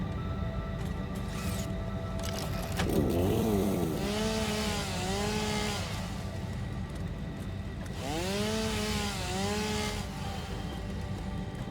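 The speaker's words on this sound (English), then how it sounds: "Let's put a chainsaw on." Chainsaw in the factory-building game Satisfactory revs and bites into trees: a steady buzzing motor whose pitch bends down and back up during two long cuts, close and loud against a constant background hum.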